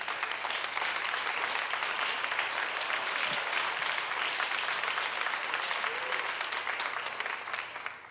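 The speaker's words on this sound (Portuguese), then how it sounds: "Você pode desocupar as suas mãos e aplaudir ao Senhor pela sua palavra." A church congregation in Rio de Janeiro applauds during a sermon, a dense, loud, continuous wash of many clapping hands that holds evenly throughout and fades slightly at the end.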